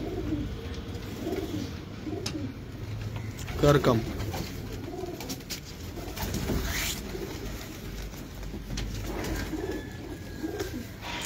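Aseel high-flyer pigeons in a Lahore loft coo softly in low, murmuring bursts beneath a steady background hiss, while someone talks over them throughout.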